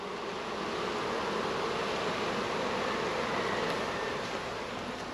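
Honeybees in a package being installed into a hive, a continuous dense buzzing hum that stays steady and close for the whole stretch, with no voices over it.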